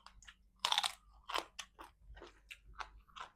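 Crunchy chewing of Thai papaya salad with pickled field crab: a quick run of crisp, crackling bites and chews, close to the mouth, loudest at the first bite and then steady, with no talking.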